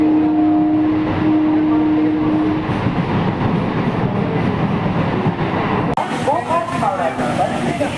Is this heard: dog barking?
no